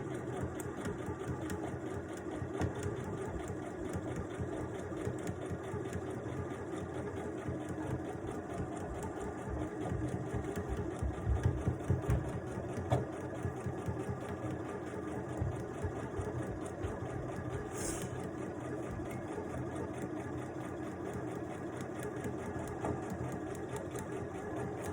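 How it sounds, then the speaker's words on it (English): Domestic sewing machine with push-button start running steadily on stitch number 1, sewing pinned rows of a simple baby blanket; a continuous, even mechanical whir at moderate level with no talking. "a neat feature with this sewing machine is when I'm using the push button start"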